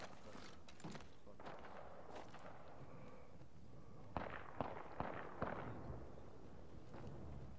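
Distant gunfire in the video game Apex Legends during a Gold Rush Duos match, a scattered series of sharp cracks and bursts of varying loudness over steady background noise, with no talk.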